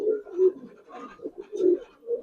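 Pigeons in a collection of Giribaz and coloured fancy breeds coo in repeated low, throaty bursts, close and clear with short pauses between calls.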